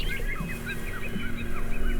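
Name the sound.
birds calling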